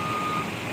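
A truck's reversing alarm beeps steadily at a bus terminal, loud and close over a constant engine hum, in a short burst with no talk.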